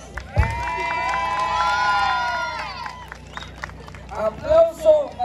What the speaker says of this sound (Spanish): ¡Aplauso para el concursante número dos!